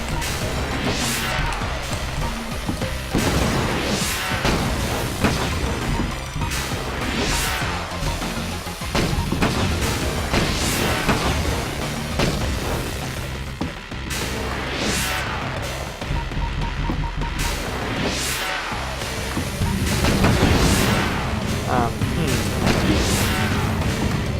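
Explosions in the Hack 'n' Slash video game burst again and again over a dense, loud mix of crashing booms, with a voice talking briefly in places.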